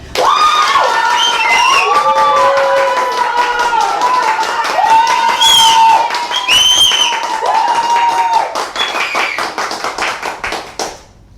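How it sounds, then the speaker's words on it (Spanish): An audience claps and cheers to welcome a special guest at a live talk event, loud rhythmic clapping with shouts and a musical jingle running throughout, fading near the end. "Recibámosla con un fuerte aplauso"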